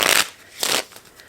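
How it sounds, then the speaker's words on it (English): A deck of playing cards being shuffled, two quick riffling bursts close up, the first at the start and the second shortly after, with a fainter flutter trailing off. "put the 3 of hearts back in and we'll shuffle"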